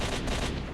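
Enemy gunfire in a war video game set on an eastern border, a dense burst of rapid shots rattling at close range, loud and continuous for under a second with no talk over it.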